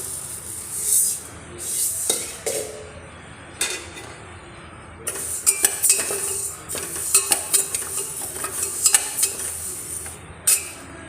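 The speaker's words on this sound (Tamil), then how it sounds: "அடுப்பில் ஒரு பாத்திரத்தை வச்சுட்டு பாசிப்பருப்பை வறுத்து எடுத்துக்கலாம் லைட்டாக" Moong dal dry roasting in a pan on the stove, with scattered clinks and scraping stirs of a utensil against metal and a soft rustle of lentils, close and fairly quiet, no talking.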